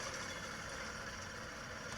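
A construction sound effect being faded out in QLab, a dense broadband machinery rumble with engine-like drone that stays fairly even and quiet, as if at a distance, dropping away at the very end.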